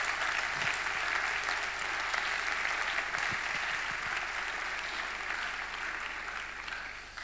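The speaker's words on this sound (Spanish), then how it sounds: "quiero empezar por un fuerte aplauso para todos ellos" A seminar audience claps in a strong, sustained round of applause, heard at moderate distance and staying dense and even before easing slightly near the end.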